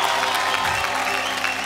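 Applause from the audience at a Bhojpuri award show in Lucknow: a thick, steady wash of many people clapping, loud and continuous throughout.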